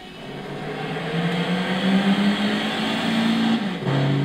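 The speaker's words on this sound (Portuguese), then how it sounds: "O ronco, aquele ronco toyotiano." A 1986 Toyota Celica GT-R with a 2-litre 16-valve front-drive engine, in Gran Turismo 6 on the Cascavel track, roars as it climbs through the revs, then drops briefly on a gear change before pulling again.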